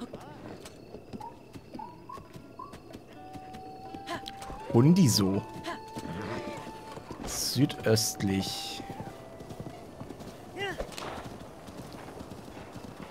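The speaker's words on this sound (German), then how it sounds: "Epona ist halt das beste Pferd," Hooves of the horse Epona clip-clop at a gallop in the Zelda: Breath of the Wild video game, with a few whinnies, game music and a person talking over the steady rhythmic hoofbeats.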